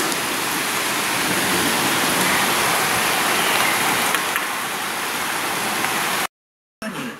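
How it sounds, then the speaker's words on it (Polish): Steady rain pours during a morning thunderstorm in Łowicz, a dense, even hiss of falling water that holds throughout before a sudden brief dropout near the end. "Jeszcze zmniejszył deszcz."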